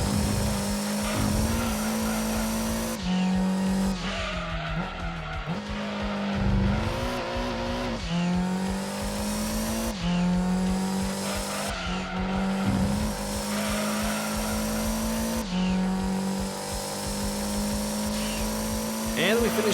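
Race cars from Gran Turismo 2 on PS1 run through a GT Mode race, with engines droning and revving through repeated gear shifts and tires squealing, and someone talking over it throughout.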